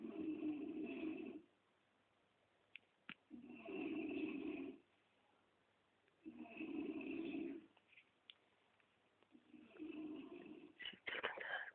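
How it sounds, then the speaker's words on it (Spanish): A person snores in slow repeating cycles, with four loud rasping breaths separated by quiet pauses, heard close in a room at night in Mixquic. "Oigan cómo está roncando."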